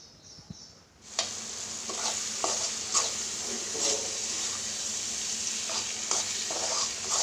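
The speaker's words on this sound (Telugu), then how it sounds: "ఇప్పుడు మనం వేరుశనగల్ని మినప్పప్పుని వేసుకుందాము" Peanuts and urad dal hit hot oil for tamarind pulihora, and a sudden loud sizzle bursts out after a quiet moment, then stays sustained and crackling with faint stirring scrapes.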